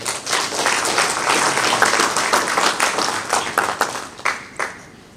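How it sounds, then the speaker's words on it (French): An audience at an official ceremony in Burundi applauds, a dense round of clapping that thins toward the end into a few scattered, distinct claps. "Je vous demande d'applaudir pour le..."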